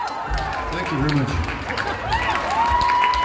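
A concert crowd at a show in Club Teatria, Oulu, claps and cheers continuously in a live club setting, while voices call out over the steady applause.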